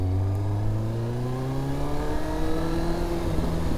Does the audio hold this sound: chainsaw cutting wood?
no